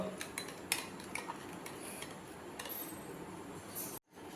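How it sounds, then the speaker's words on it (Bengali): Yogurt and sugar are whisked in a bowl, giving quiet, steady metallic clinks and scrapes of utensil against the dish, close but faint, ending in a brief silence. "এরপরে এই মিশ্রণটাকে ভালোভাবে আমি ফেটিয়ে নেব।"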